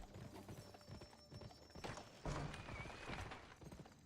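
A ridden horse trots down a village road in the western video game Gun, its hooves clip-clopping in a steady, close rhythm, with a brief louder thump partway through and no voices.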